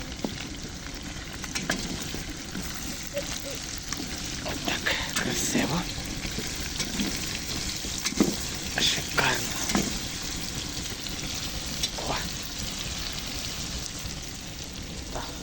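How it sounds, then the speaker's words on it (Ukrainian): Chopped onions sizzle and crackle steadily in a kazan cauldron over an open campfire, stirred now and then with scraping clinks, with faint voices in the background. "Пішла цибулька в рух. Обжарюємо так само до золотистої корочки."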